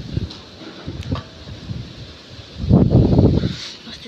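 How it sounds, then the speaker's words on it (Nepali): Strong wind blows outdoors in a village, buffeting the microphone in uneven low rumbling gusts, with a heavier, louder burst near the end and no talking. "कति साह्रो हावा चलेको हो।"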